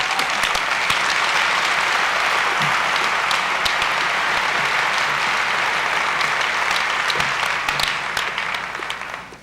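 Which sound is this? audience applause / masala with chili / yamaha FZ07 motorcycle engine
audience applause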